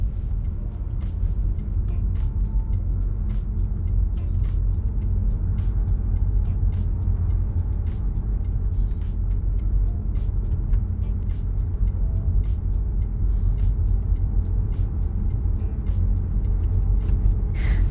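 Interior rumble of an electric car driving through the small mountain town of Ponderosa Park, Arizona, a steady loud low road and tire drone with faint ticks, no talk.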